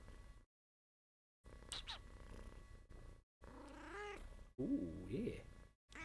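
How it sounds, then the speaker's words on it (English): A cat meows several times close up, rising and falling calls with a soft purring rumble between them, and a person briefly speaks over it. "That was a nice meow."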